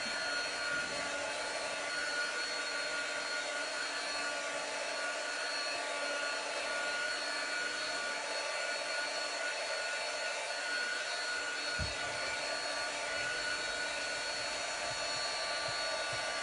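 A hair dryer blows steadily to dry paint on a Chalk Couture pumpkin, giving a constant, even whine and rush of air that goes on without a break.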